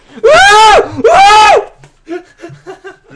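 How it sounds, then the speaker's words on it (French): A monster in the horror video game Emily Wants To Play lets out two loud, drawn-out screams one after the other, followed by softer short vocal sounds. "Je suis obligé de baisser le son parce qu'il crie trop fort."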